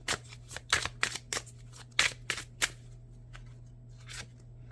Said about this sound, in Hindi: लास्ट कार्ड निकालूंगी मैं।